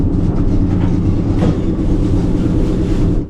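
Inside a new Talgo high-speed train in Germany, a constant low rumble and rattle from the running gear fills the cabin, broken by a sharper bump partway through, loud and steady throughout.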